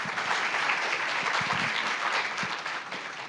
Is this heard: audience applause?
yes